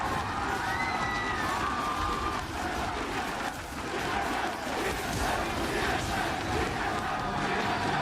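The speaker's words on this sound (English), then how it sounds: "Listen to that crowd." An arena crowd at the 2017 MSI Play-In esports match between TSM and Gigabyte Marines cheers and chants loudly in a sustained roar, with shouts and whoops rising over the din.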